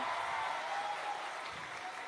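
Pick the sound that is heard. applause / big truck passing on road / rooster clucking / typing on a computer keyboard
applause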